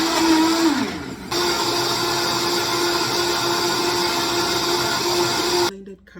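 A kitchen blender whirs steadily as it purees carrots with lemon juice and water, a loud high motor drone that dips briefly near the start, then runs evenly before cutting off.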